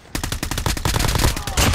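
Rapid automatic gunfire from a Call of Duty Mobile match, a loud sustained burst of closely spaced shots filling the whole moment.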